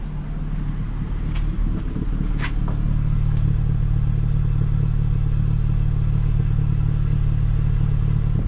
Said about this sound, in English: While the car is idling, by the way, it sounds like it's like popping a little bit.